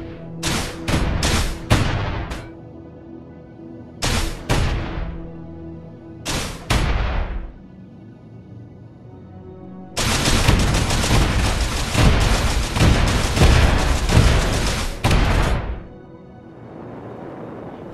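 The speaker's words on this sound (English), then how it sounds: "I create a little fighter ship and barrage one location with a ridiculous number of missiles" A small fighter ship in Space Engineers fires a barrage of missiles at one spot. Loud booming blasts come in short clustered bursts, then merge into a dense, sustained roar of explosions for several seconds before cutting off.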